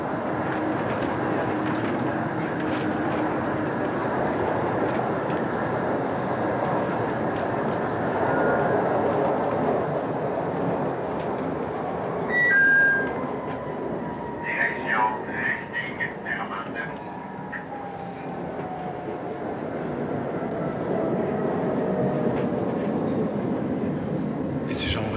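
A tram ride, a continuous rumbling rattle of the car rolling on rails with faint squeals and clicks, heard under people talking.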